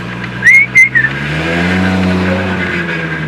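A Nissan 240SX turbo flutters with two or three quick chirping whistles, followed by a steady engine drone as the car cruises, close and loud.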